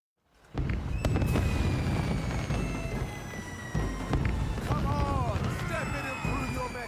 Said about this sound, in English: Fireworks during the daytime.